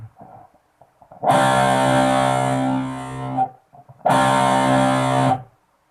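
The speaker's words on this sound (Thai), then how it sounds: "ดีดแบบไม่มิวเสียง" Two loud distorted electric guitar power chords, each strummed and left ringing unmuted for a second or two, separated by a brief pause.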